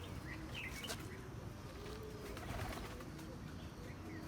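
Pigeons coo softly in a breeder's loft, a few low murmuring calls set against a busy background with faint chirps.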